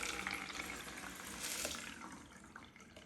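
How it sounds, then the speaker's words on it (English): Water is poured through a homemade water filter, making a steady, continuous trickling splash from start to finish with no talking. "I'm going to take my water that I just filtered and pour it through my water"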